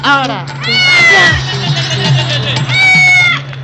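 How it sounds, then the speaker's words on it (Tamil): A cat crossing the path meows loudly and close by, several drawn-out, wavering cries heard over a steady low hum, with people talking during the meows. "பூனை குறுக்க போகுதே நம்மளும் ரிவர்ஸ்ல போலாமா?"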